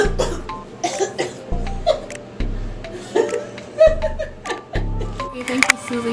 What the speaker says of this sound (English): act like you're coughing